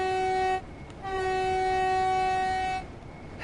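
Locomotive horn in the Train Sim World 5 game sounds in two sustained chord blasts, a short one then a longer one, loud and clear over the low rumble of the train.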